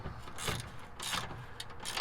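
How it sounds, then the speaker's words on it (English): Socket wrench tightening a lower control arm bolt on a 1999-2004 Honda Odyssey, a few close mechanical clicking bursts of ratchet action in a quiet garage, with no talking. "this is where you're gonna want to use a socket wrench"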